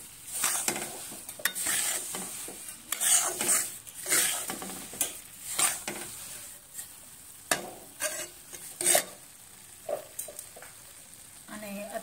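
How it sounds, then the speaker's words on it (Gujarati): Flour roasting in ghee for gond laddu, stirred with repeated spoon scrapes against the pan in uneven bursts over a soft, continuous sizzle, close and moderately loud. "લોટને સરસ એવો શેકાવા દેવાનો છે।"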